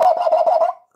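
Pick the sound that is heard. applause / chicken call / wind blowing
chicken call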